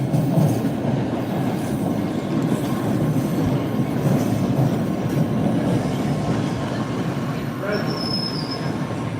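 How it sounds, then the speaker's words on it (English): A Red Line subway train rumbles and clatters slowly over track points at 10 miles per hour, wheels squealing briefly near the end; constant heavy rolling noise close by. "the train has to cross over the points at a speed of 10 miles per hour"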